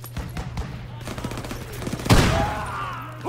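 Rapid bursts of gunfire crack through a World War II firefight in Call of Duty WWII, close and loud, with a heavy blast midway and soldiers shouting over the shooting.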